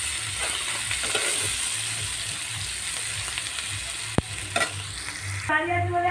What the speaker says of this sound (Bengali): ছোট্ট ছোট্ট করে পেঁয়াজ কুচিটা দিয়ে এবার ভালো করে ভেজে নেব।